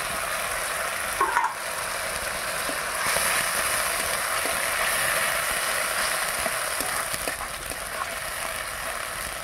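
Spices and chopped tomato sizzle with onions in a pan over a wood fire, a steady broadband frying hiss with occasional stirring scrapes, moderately loud and alone.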